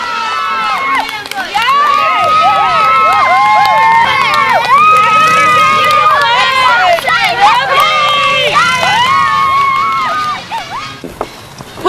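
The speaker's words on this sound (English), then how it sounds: "the brothers returned to Earth safely and were greeted by cheering crowds" A large crowd cheers and shouts, with children's voices prominent, in a loud, continuous swell of whoops and excited calls that greets the returning Wright brothers after their flight, then fades toward the end.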